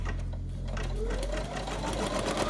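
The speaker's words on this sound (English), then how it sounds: "So we're going to do the placement stitch right now" A Brother embroidery machine stitching a placement outline for an in-the-hoop vinyl keyfob, a rapid even mechanical chatter with a low motor hum, steady and close.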